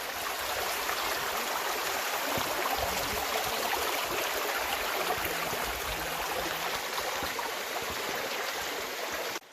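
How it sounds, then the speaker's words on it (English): A creek at Turkey Run State Park, Indiana flows steadily, a constant broad rushing wash of water heard close and evenly throughout. "Here's the creek."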